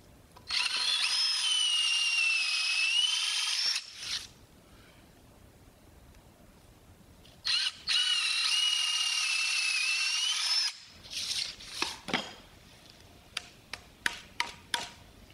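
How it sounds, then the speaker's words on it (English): Two sustained runs of a cordless drill boring a mortise in wood, each about three to four seconds of steady high whine, followed by a scatter of sharp ticks and clicks as the bit stops, close and clear with no talk. "Yeah, I like drills that come with dual batteries."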